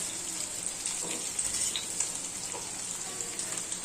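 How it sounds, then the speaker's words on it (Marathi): Surmai kingfish frying in a pan over a medium gas flame gives off a soft, continuous hiss and sizzle with faint crackles, and no one speaks. "मीडियम गॅसवर शिजू देते दोन्ही बाजूने छान क्रिस्पी झालं पाहिजे"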